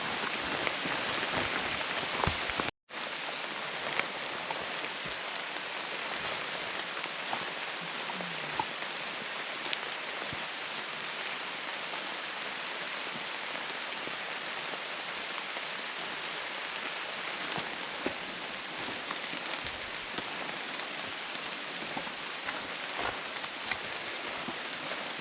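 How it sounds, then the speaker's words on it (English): Steady rain patters on the forest floor and leaves during a solo backpacking trip in the Allegheny National Forest, a dense, even hiss that keeps up after a brief dropout near the start, with no one speaking. "Man, I'm a little bummed it's raining"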